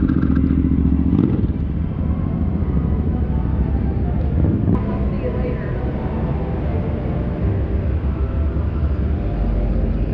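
A motorcycle engine idles and rumbles nearby on a street, a steady, loud, low-pitched drone with some clatter, while people talk over it.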